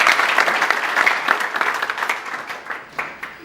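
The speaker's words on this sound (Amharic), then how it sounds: "አጨብጭቡ።" A church congregation claps together in a sustained, dense burst of applause that stays steady and close before tapering slightly toward the end.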